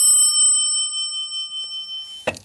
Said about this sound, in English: And right here we got armor bell.